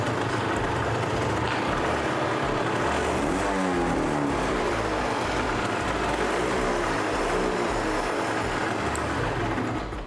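1990 Honda NSR 75 two-stroke motorcycle revving, a dense continuous engine drone that rises and falls in pitch midway, heard close and loud throughout without speech.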